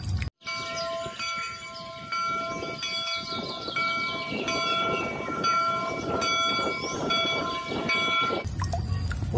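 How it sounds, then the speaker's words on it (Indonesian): A toy train plays a recorded electronic train sound, with a steady rumble and a sustained horn-like tone running for several seconds, loud and close. "Wow, ini kereta api."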